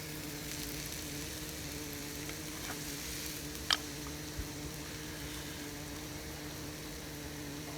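Steady, soft sizzling and crackling of food frying in a worn pan outdoors in the woods, continuous throughout with a sharp tick partway through and no voices.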